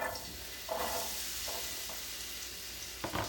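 Potatoes sizzling in hot oil as they are cooked for papas con huevo, a steady close hiss with brief bursts of crackle and the scrape of a stir, no voices.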